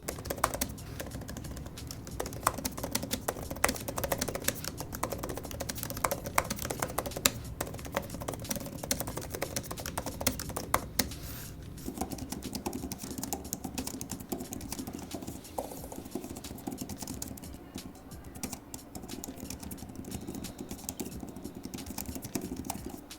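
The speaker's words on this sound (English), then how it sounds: "The Apple Magic Keyboard case is slightly quieter when typing" Steady typing on an Apple Magic Keyboard tablet case with soft, rapid key clicks, fairly close and continuous, with no voices.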